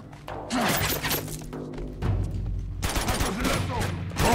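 Video-game gunfire rattles in dense, loud bursts of rapid shots and impacts, filling the mix almost without pause, with players' voices talking over the shooting.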